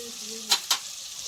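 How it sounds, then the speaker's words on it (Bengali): Peas with Kashmiri chili powder and spices are stirred in a hot pan, giving two quick, close scraping sizzles over a faint background hiss, with no talk. "একসঙ্গে সব কিছু একটু কষিয়ে নেব"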